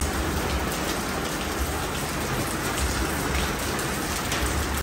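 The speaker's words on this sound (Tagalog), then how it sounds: "It's raining." Steady, heavy rain falls during a typhoon storm. A dense, continuous hiss of drops hitting surfaces stays close and loud throughout, with no voices.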